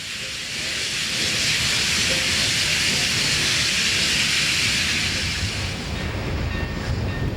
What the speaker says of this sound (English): the train backs into CSX's downtown yard